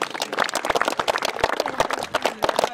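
Audience at a youth mini-football tournament ceremony applauding the referees, a brisk, irregular burst of many hand claps, close and fairly loud in an indoor hall.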